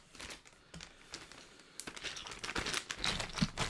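Plastic mylar bags from a Cape May board game unboxing are handled up close, giving sharp crinkling and rustling bursts that grow busier and louder, heard alone without talk.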